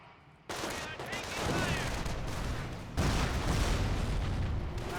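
Dense, continuous gunfire and rumbling bursts from a suppression run in a Company of Heroes 1 match between US and Panzer Elite forces, loud and sustained with a renewed surge midway.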